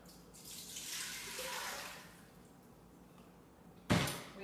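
Water runs steadily from a tap for a couple of seconds while four cups are measured for an Instant Pot, then it fades. A sharp knock follows near the end.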